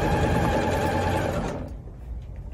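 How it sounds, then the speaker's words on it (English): A sewing machine stitching a fabric Christmas stocking, running loud and steady with a fast mechanical whir, then stopping partway through and leaving quiet room noise. "I'm going to sew again a quarter of an inch all the way around"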